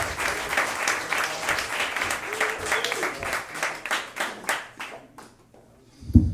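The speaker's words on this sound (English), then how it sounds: "Everybody clap your hands for Josh Merrill." A comedy club audience applauds a comedian's introduction, dense clapping that tapers off after about five seconds, with a voice speaking over the start and a brief knock at the end.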